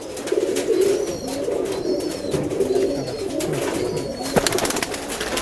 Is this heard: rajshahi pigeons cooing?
yes